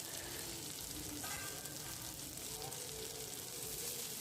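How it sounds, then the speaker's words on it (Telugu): Chopped coriander and lentils fry in oil in a pan for mint chutney, a steady soft sizzle with occasional stirring scrapes, close and continuous at low volume. "ఆయిల్లో కొంచెంసేపు మగ్గుతుంది కదా"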